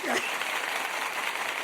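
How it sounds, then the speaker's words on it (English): Short burst of hand clapping from one person, quick claps over a second or so under a faint voice, fairly close and modest in loudness. "Let me applaud that."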